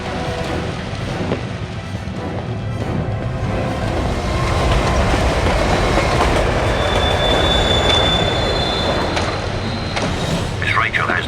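A monorail train in the Batman Begins PS2 video game rumbles steadily and loudly, with a thick wash of rolling noise, squealing metallic wheels and a high whine across the whole stretch.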